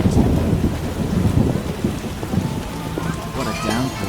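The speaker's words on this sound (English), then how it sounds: "What a downpour" Heavy rain pours steadily in a stormy scene of the game The Witcher, with deep thunder rumbling loud and close throughout, and some faint tonal game sounds toward the end.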